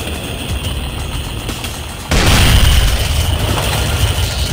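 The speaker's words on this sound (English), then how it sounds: "Sniped with a shotgun." Shotgun blasts in the video game Brutal Doom, a dense, loud booming burst that erupts midway and keeps rolling with heavy low rumble after a steadier stretch of game noise.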